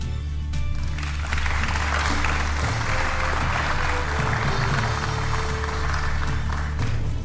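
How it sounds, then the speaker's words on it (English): A crowd at the Nairobi gubernatorial debate applauds to welcome the candidates onstage, a continuous loud clapping roar over a low steady hum, lasting throughout. "we request the audience to applaud and welcome candidates to the stage."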